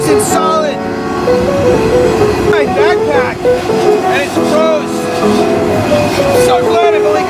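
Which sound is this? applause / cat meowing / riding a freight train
riding a freight train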